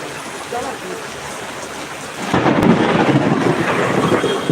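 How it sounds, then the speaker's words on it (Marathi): A deep rumble of thunder rolls in over falling rain, suddenly loud and sustained for a couple of seconds. "बापरे वीज कडकडली"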